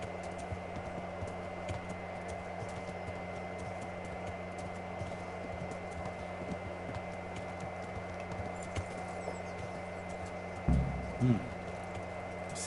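Horse hooves clip-clopping in steady rhythm as a rider travels in the medieval game Kingdom Come Deliverance, moderately close over a low ambient hum, ending with a couple of louder thuds.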